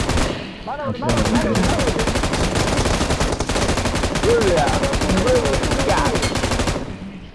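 A shooting video game fills the air with dense, continuous gunfire, rapid automatic bursts layered over one another without pause for several seconds, with faint voices underneath.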